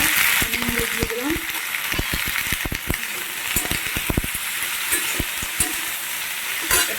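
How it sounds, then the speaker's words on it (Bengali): Okra and potato fry in oil in a wok, a dense close sizzle punctuated by sharp stirring clicks and scrapes, with brief speech fragments now and then. "দেখো তেল দিয়ে দিয়েছি কড়াইয়ে। ভেন্ডি আলুটা ভাজবো"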